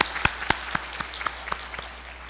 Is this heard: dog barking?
no